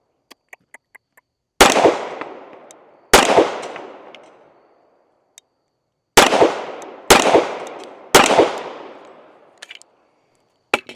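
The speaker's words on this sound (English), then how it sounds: "even with that 45, you can get very, very quick follow-up shots" Five loud, sharp pistol shots from a Springfield Emissary 1911 in .45 on a shooting range, each a close crack followed by a decaying echo, in two quick groups with faint clicks between them.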